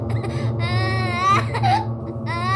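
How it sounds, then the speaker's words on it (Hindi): A boy of about six or seven sits under a tree and cries in long wavering wails, broken by a short sob and a pause. He sounds close and loud over a low steady hum. "वो लड़का एक पेड़ के नीचे बैठकर रो रहा था।"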